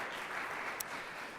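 Brief round of applause from an audience at a public forum, a soft, fairly distant wash of many hands clapping with one sharper clap standing out.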